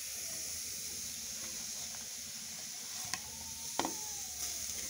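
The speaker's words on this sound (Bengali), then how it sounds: "খুন্তির সাহায্যে নেড়ে দিচ্ছি। নারকেলটা দিয়ে নেড়ে নিয়েছি" Grated coconut stirred with a spatula in a pan for bhapa pitha filling, a faint steady sizzle with soft scraping and a couple of sharp clinks near the end.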